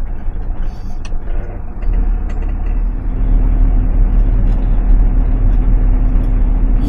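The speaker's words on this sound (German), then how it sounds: "Ich fahre 60 im sechsten Gang, das reicht." A car driving at about 60 km/h in sixth gear on a rough piste road in Morocco, a loud steady engine and road rumble that swells slightly as it goes, no talking.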